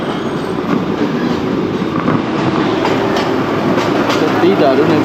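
The Darjeeling to Kurseong toy train rolls along, with a steady close rumble and a rhythmic clatter of wheels on rails, and faint voices under it.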